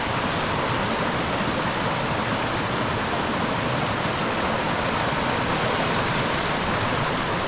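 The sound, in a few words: backcountry creek flowing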